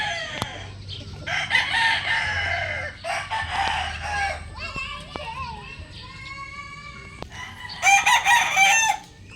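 A White Leghorn rooster crows several times, loud and near, among clucking chickens on a backyard game farm, with children's voices and chatter in the background.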